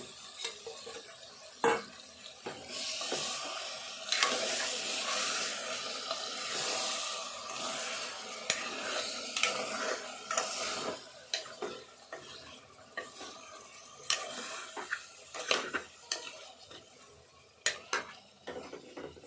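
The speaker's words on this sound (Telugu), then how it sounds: "ఇదంతా కూడా మంచిగా నూనెలో గోలాలి" Goat head meat with ginger-garlic paste and masala being stir-fried in oil, a steady loud scraping and clattering of a spoon against the pot with sizzling throughout and sharper knocks toward the end.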